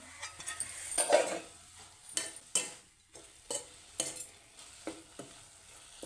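Tribal-style mutton curry frying in a pot, repeated scraping stirs against the metal in a steady rhythm over a quiet sizzle, close and fairly loud, with no talking.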